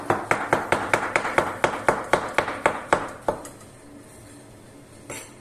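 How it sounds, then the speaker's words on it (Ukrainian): Knife chopping champignon mushrooms and onion into half-rings on a board, about fifteen crisp, evenly spaced taps in quick rhythm, then a pause and one final knock, close and clear. "беремо 200 е, г шампіньонів і 20 г цибулі і нарізаємо їх е, напівкільцями"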